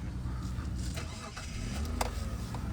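A Mitsubishi Galant 2.5 V6 engine idles steadily with a low, even hum, while a person talks briefly nearby over the running motor.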